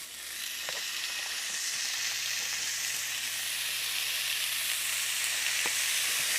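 Burger patties sizzle on a heated grill pan, a steady, close hiss that swells slightly over time, with a faint low hum and a couple of brief clicks.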